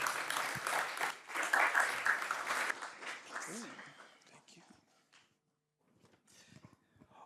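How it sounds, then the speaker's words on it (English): A seminar audience claps after a data science talk: a dense burst of applause for about three seconds, then it thins and fades out, with a short voice and some faint room shuffling afterward. "Big applause to Eric."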